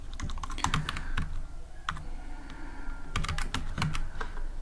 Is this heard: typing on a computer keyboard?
yes